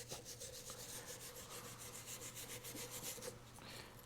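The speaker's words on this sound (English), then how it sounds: "let's see if we can scrape this off. See if we can clean that up a little bit." A tool rubs and rasps back and forth in quick, even strokes as deposit is scraped off a Honda SL125 engine part, a faint, close scratching with no voices.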